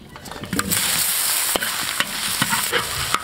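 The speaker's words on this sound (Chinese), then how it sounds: "先煸炒一下，煸出猪油，" Pork stir-fries in a wok with caramelized sugar, giving a steady loud sizzle. A spatula scrapes and clacks against the metal at irregular moments. Nobody speaks.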